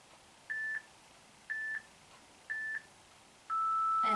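A workout interval timer gives three short, evenly spaced beeps about a second apart, then a longer lower sustained tone, clear and alone in a quiet room.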